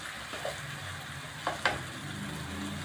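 Spice masala sizzling and frying in ghee in a pan, a steady soft crackle and hiss throughout with a couple of brief stirring scrapes, close and moderate.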